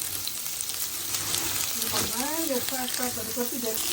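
Chowmein with green peppers sizzles and fries steadily in a pan with a constant crackling hiss, stirring noises mixed in, while a voice talks over the middle portion.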